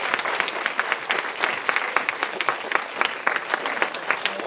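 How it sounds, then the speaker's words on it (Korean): Audience at a church vision concert applauds the pastor with steady, dense clapping that holds at an even level for the whole stretch, with scattered louder individual claps standing out in the crowd. "우리 목사님께 큰 박수 한번 부탁드립니다."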